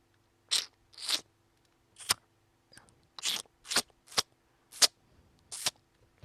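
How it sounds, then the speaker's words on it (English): Lateral click speech sounds made with the mouth, about eight or nine sharp, isolated clicks spaced irregularly in near silence, close and crisp. "I think the lateral click"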